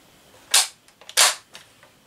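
Two sharp, close metallic clicks about half a second apart come from a bolt-action rifle being dry fired, the trigger snapping with small mechanical rattles around each one.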